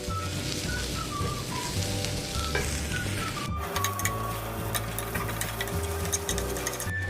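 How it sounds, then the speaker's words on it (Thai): Sliced shallots roast in a pan for Thai chili paste, a steady dry sizzle with occasional scraping stirs and a sharp clack midway; tonal background music plays throughout. "หอมแดงซอย 55 กรัมนะครับ นะคั่วจนสุกเลยนะครับ"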